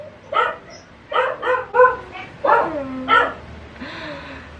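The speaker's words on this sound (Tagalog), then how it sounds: "ang ingay ng aso" A dog barks in a rapid series of sharp yaps, close and loud, ending with a softer whimpering whine.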